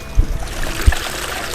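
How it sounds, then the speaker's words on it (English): A pond waterfall spills out of a cedar stump in a steady, close trickling splash, with two soft low thuds near the start. "I love how that comes out of the stump there, the waterfall."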